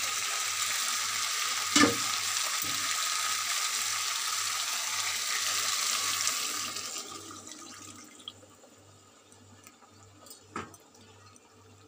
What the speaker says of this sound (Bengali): এই যে মাংস সেদ্ধ করা জলটা, এই জলটা এর সঙ্গে অ্যাড করে দেবো